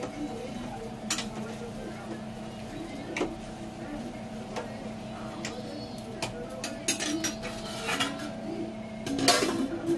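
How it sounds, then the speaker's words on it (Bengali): Khichuri being stirred in a metal pot with a spoon, giving a string of scattered scraping clinks and knocks over a steady background hum, fairly close and moderately loud. "মশলাটাকে দিয়ে খিচুড়িটা ভালো করে একবার নাড়িয়ে দিতে হবে"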